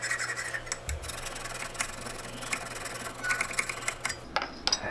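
A file scrapes in rhythmic rasping strokes, draw filing a metal sole up close over a low steady background hum.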